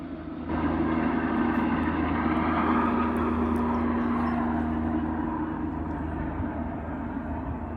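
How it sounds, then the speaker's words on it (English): A firefighting helicopter carrying a filled water bucket flies over a wildfire in Wears Valley, giving off a loud, steady low rotor and engine drone that fills the whole clip without letup. "So he's got the bucket filled with water now. And he should be heading over to the left."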